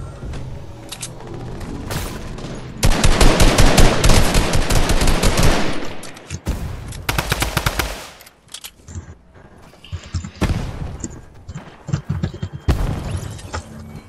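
Rapid automatic gunfire in the Fortnite video game, loud sustained bursts and scattered single shots and booms over about fourteen seconds, with a few quieter gaps.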